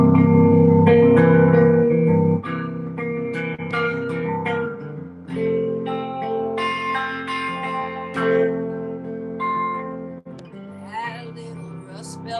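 Live at-home performance of a song, with sustained instrumental chords and harmonic tones carrying through, a steady full texture with shifting chord changes and light reverb.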